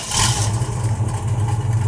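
A 1969 Chevrolet Camaro Z28 V8 engine revs up briefly, then settles into a loud, throbbing rumble close by, with no voices over it.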